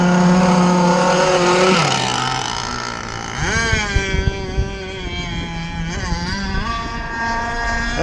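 An RC Jersey Skiff boat with its cover off races by at full throttle, the motor's high whine rising and falling in pitch as it speeds close past and pulls away.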